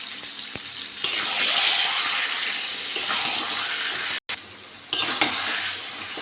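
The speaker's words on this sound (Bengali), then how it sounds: "মাংসটা ভালো করে কষে নেব" Chicken pieces with ground black pepper sizzle and scrape in a hot pan as they are stirred, a close, continuous frying hiss broken by a brief pause before resuming.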